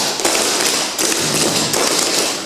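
Clogging shoes strike a hard floor in quick, crisp taps and brushing scuffs, a beginner double step and brush repeated in a steady rhythm, loud and close with no talk.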